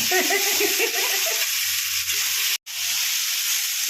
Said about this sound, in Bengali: এটাকে ভালো করে ভেজে নিতে হবে